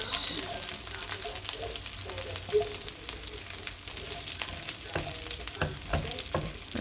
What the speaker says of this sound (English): I'll stir this for a little bit.